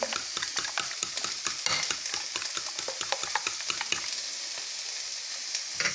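Scrambled egg hits a pan of hot oil with a loud, dense sizzle and crackle, broken by rapid scraping and stirring strokes that ease off toward the end.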